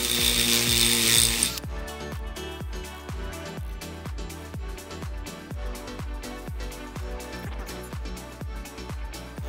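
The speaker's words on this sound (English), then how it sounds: "So we got our step bit mounted in our drill." A drill with a step bit whirs briefly, then a steady run of rhythmic, ratcheting clicks follows as the bit chatters through metal while fitting an intake air temperature sensor on a 1JZ engine, close and fairly loud.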